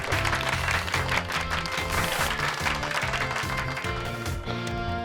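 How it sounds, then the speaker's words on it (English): A crowd applauds in the Pokémon Scarlet/Violet video game, with dense, steady clapping throughout over a loud, busy background. "Give Pikachu a round of applause, everyone."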